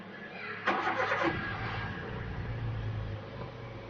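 A used Toyota Avanza's engine cranks and catches with a sharp burst, then settles into a steady, low idle, heard close with no talking.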